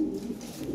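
Low, rolling cooing of a male Lahori pigeon at a pigeon market, a steady soft murmur close by with no talk over it.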